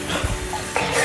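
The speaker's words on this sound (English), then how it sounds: "I'm going to give it a stir." Flour-coated meat is stirred in a cooking pot, a brief soft scraping and shuffling with faint sizzle, close by and lasting about a second.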